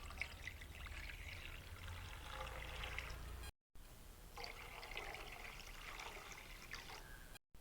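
Water poured from a vessel into a kadai while making chicken and vegetable soup, a steady splashing stream that runs for several seconds, breaks off briefly, then resumes, close and fairly loud with no talk.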